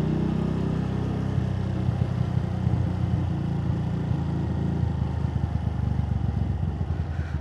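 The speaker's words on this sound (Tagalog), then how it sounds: "So yung silencer ko, hindi ko na siya dinala." A motorcycle ridden at night with no silencer fitted gives a steady, loud, rough engine drone with clattering exhaust pulses, heard close and continuously through the whole ride with no talking.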